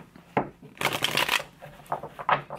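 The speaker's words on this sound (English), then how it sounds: "I'm actually going to put the Three of Swords back in the deck." Tarot cards being shuffled back into a deck, a few separate riffling bursts of papery card noise, close and fairly soft, with no talk.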